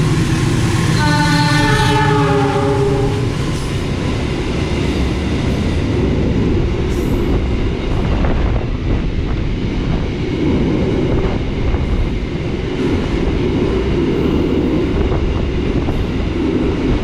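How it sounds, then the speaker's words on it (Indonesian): A long freight train rolls through a station on Indonesia's Ambarawa line, with a loud horn blast at the start and then a steady, heavy rumble and clatter of wagons passing close by. "Kita berpapasan dengan kereta api barang."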